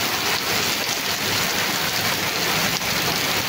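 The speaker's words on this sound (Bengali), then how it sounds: "গত রাত থেকে শুরু হয়েছে বৃষ্টি, এখন পর্যন্ত বৃষ্টি হচ্ছে দোবড়াতে" Steady rain falls in Dhobaura, a continuous dense hiss of drops on surfaces that holds an even loudness throughout, with no voices.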